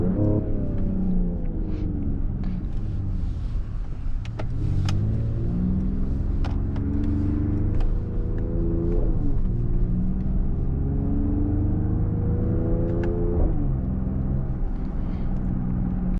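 A 2024 Mercedes-AMG GLE 53 Coupe facelift's exhaust while driving in Sport Plus mode, a loud steady drone that rises through the gears with several sweeps up and drops at each shift, with occasional sharp pops over the rumble.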